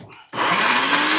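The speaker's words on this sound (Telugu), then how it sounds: "ఇవి కూడా వేసేసి మిక్సీ పెడతాం." A mixer grinder switches on to blend roasted brinjal for chutney in a bachelor's kitchen, a sudden loud whirring motor roar after a brief quiet moment, continuing steadily.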